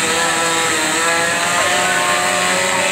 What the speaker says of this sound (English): It's a workout running the chainsaw